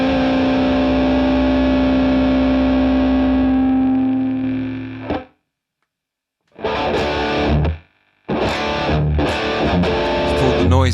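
Noisy high-gain distorted guitar patch on a Boss GT1000 Core, a loud sustained chord ringing then cut off, followed by short bursts of crunchy playing separated by silent gaps.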